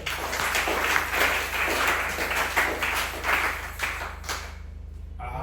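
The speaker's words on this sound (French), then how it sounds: "Applaudissez le Seigneur" A church congregation claps in praise at a Thursday prayer exhortation, a steady, moderately distant wash of many hands with a low hum underneath, fading out near the end.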